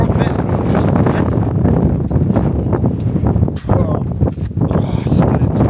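Strong, vicious wind gusts batter an exposed Scottish hillside, roaring loud and continuous with heavy buffeting against the microphone and brief dips in force.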